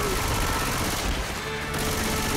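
Continuous gunfire fills a Left 4 Dead 2 match, with dense rapid shots forming a loud, unbroken barrage of game noise.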